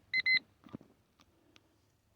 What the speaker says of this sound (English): there goes my egg timer